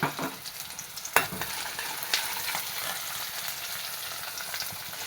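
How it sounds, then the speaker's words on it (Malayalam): Chopped onion, ginger and green chili fry in oil for Bombay chutney, giving a steady close sizzle broken by a few sharp clinks of a stirring spoon, with no voices. "ഞാൻ ഓയിൽ ഒഴിച്ചു കൊടുത്തു ഒരു സവാള കട്ട് ചെയ്ത് ഇട്ട് കൊടുത്തു ഒരു ചെറിയൊരു കഷ്ണം ഇഞ്ചി ഒരു പച്ചമുളക്"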